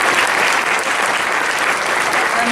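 A full audience applauds student speakers at a conference, a loud, dense and continuous roar of clapping filling the room.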